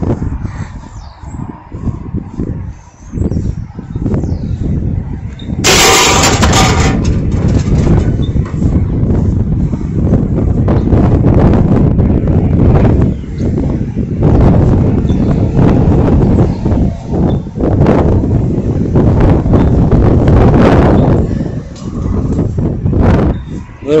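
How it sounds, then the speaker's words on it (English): Strong wind blows outdoors in the open country, a loud, continuous buffeting roar that swells and dips in gusts throughout. "A little windy out here it is."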